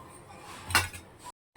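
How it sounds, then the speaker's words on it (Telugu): A lid is set onto a cooking pot of eggplant curry with one short metallic clink and rattle, near and fairly soft, followed by an abrupt silence. "కలిపేసి మూత అయితే పెట్టేస్తాను"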